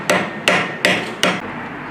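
Four sharp, evenly spaced hammer strikes ring out on smelted silver, each a loud metallic clang that fades quickly. The strikes are close and there are no voices.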